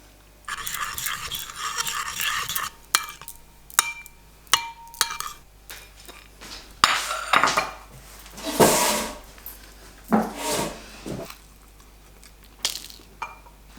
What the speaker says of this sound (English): I'm just gonna add in some coconut yogurt to my soup